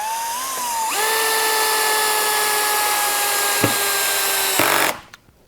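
A SKIL PWRCore 12 cordless hammer drill driving a screw whirs steadily at close range for about four seconds, pitch rising as it spins up, then stops with a short clatter.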